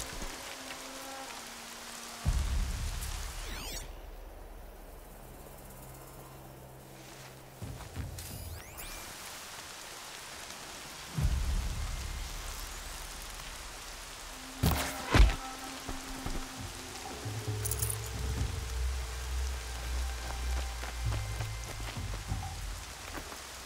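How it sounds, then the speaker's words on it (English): Steady rain pattering on surfaces in the video game Horizon Zero Dawn, with a few sharp thunks and a brief crack near the middle rising over the constant wash of rainfall; no voices. "More rain."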